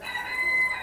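A rooster crows inside a very clean, luxurious chicken coop, a single brief, fairly faint call with a sustained tonal ring.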